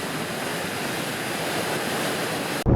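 Rushing water of the Dog River on a wet, miserable morning, a loud, continuous broadband roar of rapids and falls that cuts off sharply near the end into a close, muffled thump.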